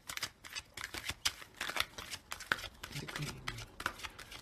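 Soft, rapid papery riffling and flicking of tarot cards being shuffled close by, quiet and uneven, with a few brief clicks.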